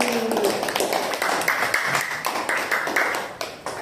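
A primary school class claps for all the groups after their presentations. The hand claps are brief and scattered, with voices speaking over them throughout the few seconds.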